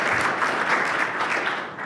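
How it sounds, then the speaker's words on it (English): Audience applause during a talk, dense steady clapping from a crowd that holds at full strength for a couple of seconds with no voices over it. "Give everyone a round of applause."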